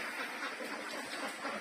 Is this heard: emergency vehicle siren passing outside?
no